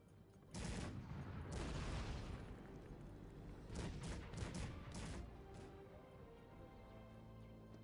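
Musket troops in the strategy game Cossacks 3 fire in ragged volleys, with several clusters of sharp cracks and booms spread across the clip at moderate distance.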